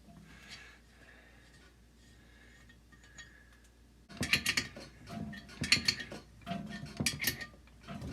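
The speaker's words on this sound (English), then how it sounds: "I have the bolt holes that hold the rocker arms down. I have those threads to chase." Metal-on-metal clicking and ratcheting as rocker arm bolt-hole threads are chased through the through-holes of a Cat 60 cylinder head: faint taps at first, then louder, close, repeated bursts of metallic clinks in the latter half.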